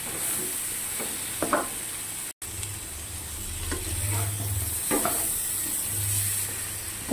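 Whole spices fry in hot oil: panch phoron, dried red chilli, bay leaf, green cardamom, clove and cinnamon. A steady close sizzle runs throughout, broken by a brief dropout, while a spatula scrapes and stirs the pan in repeated strokes.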